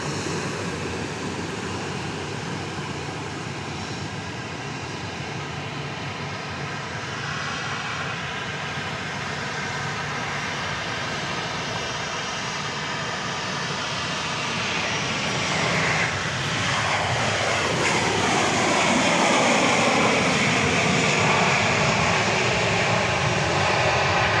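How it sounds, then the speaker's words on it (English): A Boeing 737-800 arriving from Las Vegas approaches at night at Dallas Love Field, its jet roar building and growing louder, with a sweeping tonal whine appearing as it draws close. "So it's flight 1519 arriving from Las Vegas"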